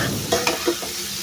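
Bitter gourd stir-fried in a pan for a lentil and bitter gourd dish, with a steady sizzle and a few sharp scraping stirs of a spatula, close and clear with no talking.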